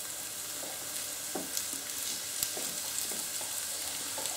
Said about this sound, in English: I'm just going to add the onions in there. Just going to give those a quick mix around, get them in the oil.